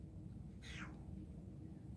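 A house cat gives a single short meow, rising then falling, heard clearly over a steady low background hum in an indoor room.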